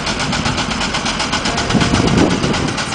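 A midget racing car engine runs just after starting, a steady, buzzy high-revving drone with rapid regular pulsing, fairly close and loud, rising slightly in intensity toward the end with no talk over it.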